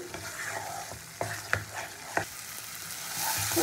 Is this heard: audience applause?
no